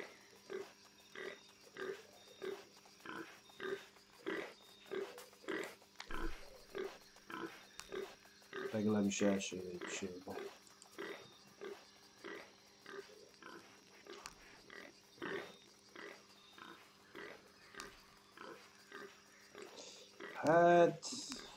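Piglet squeals and grunts from the Shadow of the Tomb Raider video game, a repeated rhythmic pattern under a steady game music bed, with a louder burst of squealing near the end while someone talks over it.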